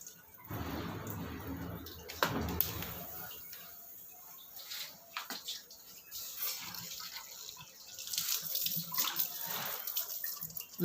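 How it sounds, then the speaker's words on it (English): Water drains from the input side of a Livpure water purifier's pre-filter during back-flushing, a quiet, continuous trickling and running flow that swells and eases, close by with no speech. "And drain the water from the input side."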